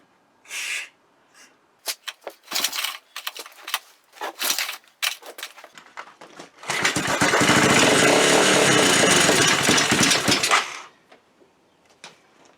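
A 225DX engine is started with the choke on, heard as several sharp pull-cord bursts followed by a loud roar of about four seconds before it cuts out.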